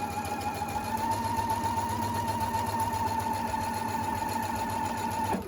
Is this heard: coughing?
no